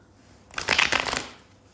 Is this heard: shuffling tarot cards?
yes